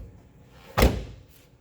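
A single solid thud as a Volkswagen Beetle door is pushed shut, fairly close, followed by a short fading rumble and a faint click.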